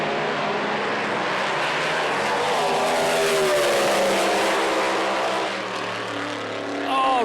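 Pro Slammer drag racing cars, including a red Mustang, roar off the line at a quarter-mile strip, a loud continuous engine blast that builds and then recedes, with crowd noise underneath.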